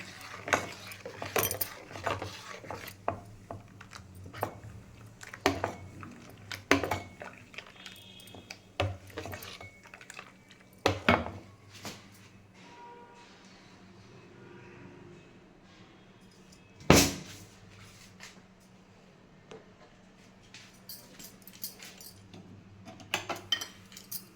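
Spoon or utensil scraping and clinking against a pot while fenugreek buttermilk is mixed, giving irregular metallic taps and clanks of varying loudness over a quiet background, with no talking.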